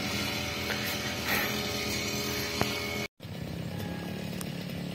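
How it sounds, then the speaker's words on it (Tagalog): A motorised grass cutter running in a garden beside a hut, giving a continuous buzzing whine with a few clicks, a short cut-out and a quick restart. "Nagra-grass cutter."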